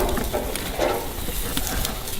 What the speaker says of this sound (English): That's what that sizzle is. It's that chicken fat rendering, getting those nice grill marks.